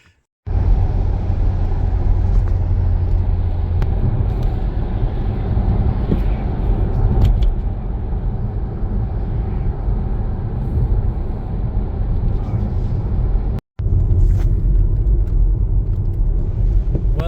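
Jaguar XK X150 driving on a wet Lake District road, a steady low engine and tyre rumble with road hiss heard from inside the car, unbroken apart from one brief cut.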